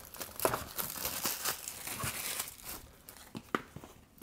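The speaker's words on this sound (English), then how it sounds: "Kind of rip the plastic off." Plastic wrap being torn and peeled off a Razer Phone 2 box, close-up crinkling and crackling in quick irregular bursts, fairly quiet and without talk.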